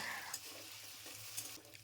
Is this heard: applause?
no